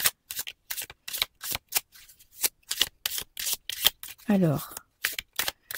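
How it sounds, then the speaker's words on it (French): Tarot cards being shuffled by hand in a rapid run of short crisp riffles and flicks, close and fairly loud, with a brief spoken word partway through. "Je vais juste prendre 3 cartes sur Zuckerberg pour voir un petit peu ce que les cartes ont à dire."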